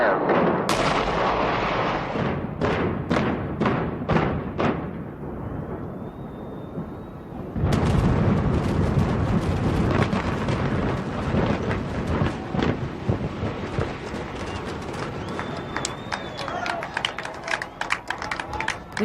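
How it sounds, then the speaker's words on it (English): Controlled demolition of the Aladdin hotel tower in Las Vegas: a rapid string of loud timed charges cracks out one after another, then a massive rumbling roar as the building collapses and debris thunders down for many seconds. "14 delayed explosions timed just right to make the building fall exactly where they wanted"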